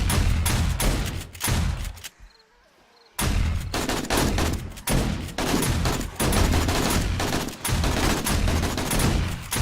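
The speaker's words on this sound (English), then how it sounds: "the shotgun's putting in the work" Shotgun fire in 7 Days To Die, loud repeated blasts in quick succession with a brief pause in the middle before the firing resumes, set in a tunnel.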